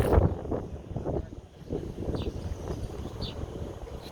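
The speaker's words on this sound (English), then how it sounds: "It's too damn windy," Strong wind gusts outdoors buffet the microphone with a continuous low rumbling roar that swells and eases over a few seconds, with no voices.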